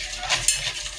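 A pan being stirred while it holds a mixture of Coke, salt and dishwashing liquid, heard as a short, close scraping and swishing with a small clink partway through.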